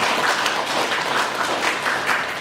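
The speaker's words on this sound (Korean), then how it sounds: "다시 한번 큰 박수 부탁드립니다" An audience applauds after an educational lecture on Daebudo eco-museum tourism, a steady, dense wash of clapping filling the room without a break.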